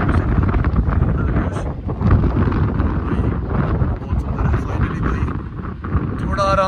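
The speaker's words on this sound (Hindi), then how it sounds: "बहुत ज्यादा तेज हवा है यार।" Strong gusty wind buffets the microphone on a mountain road in Himachal's Spiti Valley, between Chandra Taal and Kullu, as a steady loud roar throughout, with brief voices underneath.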